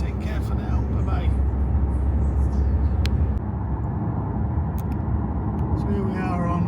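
A car cruising on the German Autobahn, heard from inside as a loud, steady low road-and-engine rumble that eases slightly partway through, with faint voices and a few light clicks on top.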